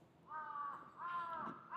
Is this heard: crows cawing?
yes